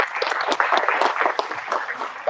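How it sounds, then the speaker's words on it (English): Short burst of audience clapping for speakers at an annual lecture on artificial intelligence, loose and uneven, with individual claps standing out from a moderate crowd. "let's give us a very big round of applause for them."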